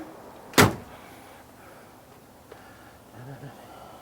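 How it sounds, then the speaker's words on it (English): A single sharp car door thump close by on a 1965 Ford Mustang, followed by quiet cabin ambience with a couple of faint clicks. "And the doors close good."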